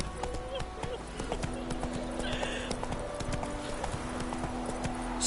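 Horse hooves trot in a steady clip-clop rhythm in The Witcher 3, with a brief whinny and a voice speaking over the hoofbeats.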